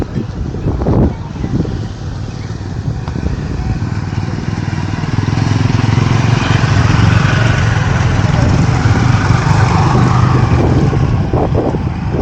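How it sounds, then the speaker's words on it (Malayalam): A group of motorcycles approaching, their engines droning closer and building to a sustained loud roar, with some buffeting wind and a voice briefly at the start. "കുറേ ബൈക്കുകാർ വരുന്നുണ്ട്"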